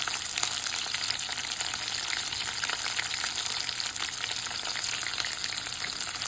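Onion sautéing with curry leaves and coriander in a pan gives a steady, dense sizzle that holds evenly throughout at close range, with no voices over it.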